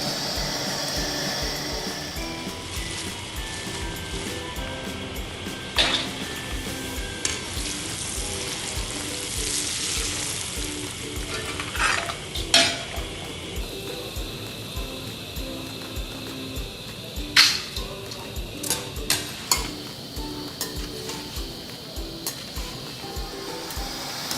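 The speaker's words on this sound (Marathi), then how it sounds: "अशा पद्धतीने आपण सगळे पोहे हे तळून घेणार आहोत।" Flattened rice (poha) deep-frying in hot oil for a Diwali snack sizzles continuously, broken by scattered clinks and scrapes of a strainer and spoon; no one talks.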